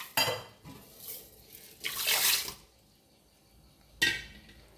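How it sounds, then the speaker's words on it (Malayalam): Water splashes and pours into a pot of cooked rice being made into kanji, coming in several close bursts with metallic clinks of the vessel between them and no talking. "ഇതിന് കുറച്ചുകൂടി വെള്ളം ചേർത്ത് കൊടുക്കാം."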